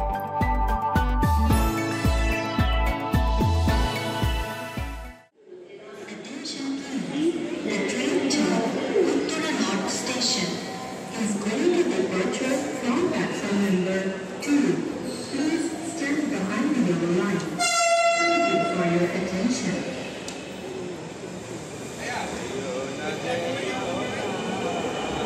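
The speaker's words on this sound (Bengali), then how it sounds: "আমাদের মেট্রো রেল ভ্রমণ শেষ," A Dhaka metro rail train ride heard from inside the car: a steady, loud rumble of the running train after a few seconds of music at the start, with a brief chime-like tone partway through.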